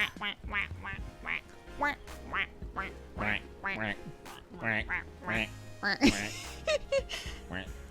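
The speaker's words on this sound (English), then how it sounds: "The sound of loud quacking interrupts her." Several ducks quack loudly in rapid, overlapping bursts in a scene from the video game Boyfriend Dungeon, a continuous nasal chatter close up with no pauses.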